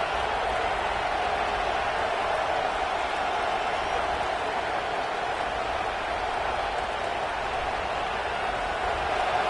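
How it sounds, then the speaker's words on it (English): A large stadium crowd at a college football game roars in a constant, dense wash of noise, with no single voice standing out. "Listen to the crowd energy here in the early going."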